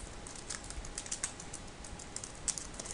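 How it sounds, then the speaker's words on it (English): Quick, irregular key taps on a computer keyboard as text is entered into a text box in Photoshop, faint and close with no voices. "I will just start typing my text."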